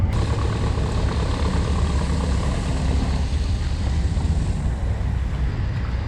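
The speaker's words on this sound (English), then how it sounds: "These boats basically serve like a local taxi in this area." Low steady rumble of a small old pleasure boat's engine running continuously on harbour water at Aberdeen, Hong Kong, with a broad churning wash over it, close and loud.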